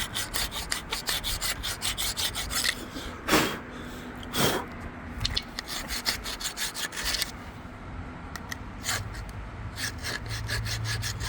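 Scraping and wire-brushing rust off the brake caliper surfaces of a 2020 Hyundai Kona during a front pad and rotor job, with close, gritty rubbing strokes in uneven bursts and a couple of louder knocks.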